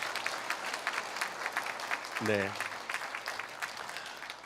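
A church congregation at a year-end Sunday service applauds the church brass band with dense, steady clapping throughout, while someone speaks briefly partway through.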